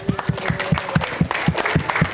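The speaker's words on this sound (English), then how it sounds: "Give yourselves a round of applause." A small group claps in a quick, fairly regular rhythm, each clap distinct and close, with faint voices mixed in.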